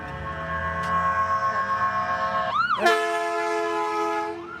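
An ambulance siren goes by outdoors, holding steady wailing tones that shift in pitch partway through as it passes. The siren is moderately loud and continuous over a rumbling background, with no voices.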